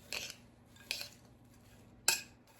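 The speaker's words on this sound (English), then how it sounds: "And then you dump it out onto the cookie sheet" Granola mix is dumped from a bowl onto a cookie sheet in three short, separate bursts of rattling and scraping against the metal, in an otherwise quiet room.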